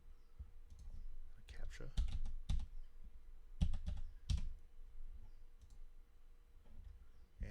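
A password is typed on a computer keyboard as close, irregular clusters of sharp key clicks with pauses between bursts, while a voice speaks briefly and quietly.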